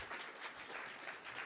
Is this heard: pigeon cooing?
no